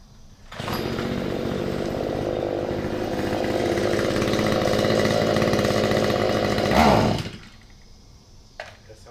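STIHL weed eater two-stroke engine running after a carburetor reset to factory settings, a loud, steady buzzing drone held for about six seconds, rising in a short rev before cutting to a low idle.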